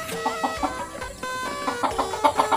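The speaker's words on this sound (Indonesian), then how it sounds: "jantannya itu adalah ayam Brugo" Berugo jungle fowl rooster clucking in a series of short, repeated calls at close range, with a brief pause in the middle before a denser burst of clucks toward the end.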